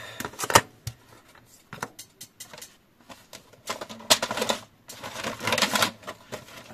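A crafting die-cutting machine being cranked with paper, giving irregular mechanical clattering bursts and rattling, close and moderately loud, with brief pauses between turns.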